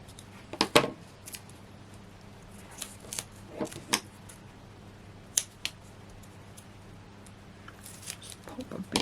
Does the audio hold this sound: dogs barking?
no